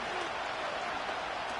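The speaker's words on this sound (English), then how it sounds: "The Arrowhead crowd in full roar." A large stadium crowd at Arrowhead Stadium roars during an NFL football game, a loud, dense, continuous wash of cheering that holds steady throughout with no distinct voices standing out.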